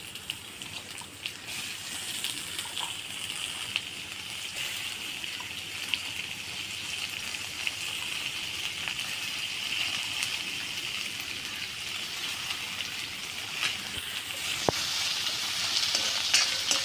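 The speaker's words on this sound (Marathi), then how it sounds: "आता याला तेलामध्ये परतून घ्यायचं" Chopped onion frying in oil in a kadhai for a Maharashtrian pea curry, a loud steady sizzle with occasional stirring scrapes, heard alone without talk.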